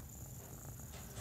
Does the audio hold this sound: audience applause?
no